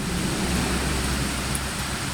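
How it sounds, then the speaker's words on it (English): Steady rain drums on a tin roof overhead, a dense continuous patter with a broad low rumble, loud and unbroken throughout with no talk. "we are raining, and I'm under a tin roof"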